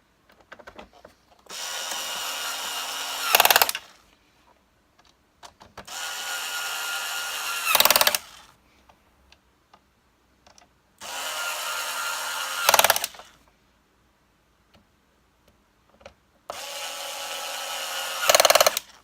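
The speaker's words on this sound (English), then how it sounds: "Okay, so I'm just putting in the last screws." A power screwdriver drives the last screws into a Hoover Turbopower UB088 Total System vacuum cleaner during reassembly: four separate whirring bursts of about two seconds each, with quiet pauses between them.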